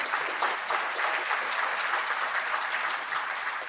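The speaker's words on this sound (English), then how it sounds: "They were clapping for me, Rick, not for you." An audience at a community indicators report presentation applauds. Dense, even clapping runs for nearly four seconds with no talking over it.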